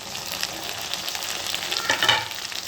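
Tomatoes are added to frying onions in a pan for green gram kurma, giving a close, steady sizzle that swells briefly near the end, with no voices.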